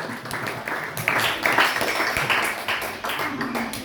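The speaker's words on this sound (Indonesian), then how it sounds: "Beri tepuk tangan dulu untuk kita semua." An audience claps at a Quran quiz competition final held at an Islamic school, with a steady burst of applause lasting several seconds.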